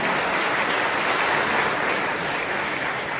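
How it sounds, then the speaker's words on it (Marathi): An audience at an award ceremony for tenth-grade students gives loud, dense, continuous applause that holds steady without a break. "त्यांच्यासाठी खरोखर आपण जोरदार टाळ्या वाजू"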